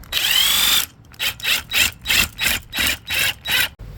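Power tool with a 13mm socket drives bolts on a rooftop tent annexe: one long loud whir, then about seven short, evenly spaced bursts, close up with no talk.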